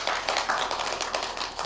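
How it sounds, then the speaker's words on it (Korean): A church congregation claps to welcome a visiting elderly woman during a Sunday service, a steady, dense patter of many hands filling the room without pause. "우리 박수로 환영하겠습니다"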